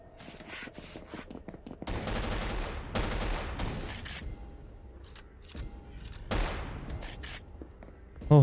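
Gunshots in the Project Crypt horror game: rapid bursts of loud, sharp shots in several clusters, with short quiet gaps and faint footsteps between volleys.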